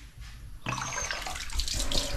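Water gushes hard from a pipe or tap at a newly finished house, starting abruptly and then flowing loud and steady at close range without speech.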